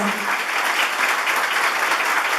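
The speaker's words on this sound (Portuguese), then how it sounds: "gostaria que você ficasse de pé e vocês aplaudissem o nosso escritor desta noite" An audience at a literary evening applauds its guest writer, José Inácio Vieira de Mello, with dense, steady clapping that fills the whole stretch at an even level.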